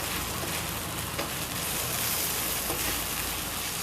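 Green onions sizzling steadily in a hot pan for a liver steak, a loud, even crackling hiss that holds throughout with only slight ripples in intensity.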